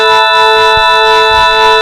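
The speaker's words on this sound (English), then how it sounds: "Playing our whole first chord, it should sound like this." A bright synthesizer organ chord built in free software, held steady and loud with many stacked sustained tones and strong highs, then cut off abruptly.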